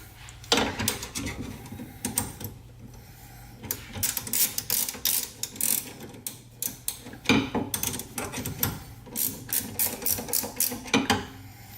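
Bolts on a Hi-Lift jack mount for a Rola roof rack on a Toyota 4Runner are tightened with a ratcheting tool, giving bursts of quick, close clicking separated by short pauses.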